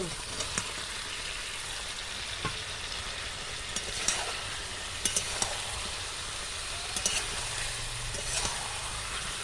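Pre-fried chicken pieces stir-fried for chilli chicken, a steady crackling sizzle from the pan with occasional sharper clicks and scrapes of stirring, close and fairly quiet, no talking.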